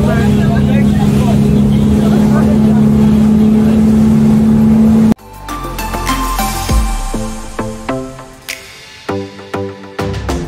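Motorboat tour ride on choppy water off Miami, a steady loud engine drone for the first half, then wind and splashing wave slaps against the hull; people speak over the ride.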